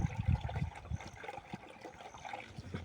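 Water from a village tap trickles and splashes for a rinse of kitchen utensils in a rural home, a light steady running stream with soft clinks of handling near the start.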